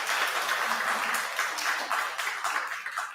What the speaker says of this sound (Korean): 갑자기 박수 타임?